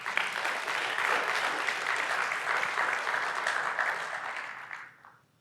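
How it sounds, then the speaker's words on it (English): Sustained clapping from a seated audience, steady and full for several seconds before tapering off quickly at the end. "Give her an applause."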